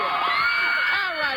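Crowd cheering at a 1993 World Tour concert at Riverfront Coliseum in Cincinnati, a dense wash of shouts and whoops from a large arena audience, sustained and fairly loud throughout.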